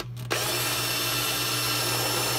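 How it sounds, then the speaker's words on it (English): A power drill starts abruptly and runs at a steady high whine, boring continuously through a plastic washing machine tub, close and fairly loud. "we take a drill, and right at the end of the crack, we'll drill a hole"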